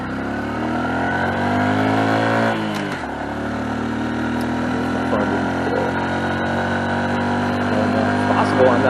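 Honda Super Cub C125 motorcycle riding along a country road in third gear, engine note steady and close with a brief drop in pitch near the start as gears shift, then a continuous drone with wind noise.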